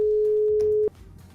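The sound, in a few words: telephone call ringing tone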